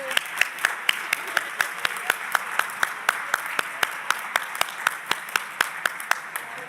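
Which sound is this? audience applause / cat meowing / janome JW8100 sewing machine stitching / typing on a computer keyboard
audience applause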